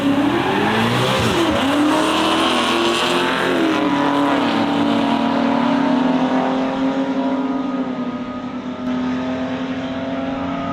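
Ford Ranger Raptor on 35-inch tyres accelerates in sport mode during a quarter-mile run, its engine roaring loud and close, climbing through gears then holding a steady high drone before easing slightly.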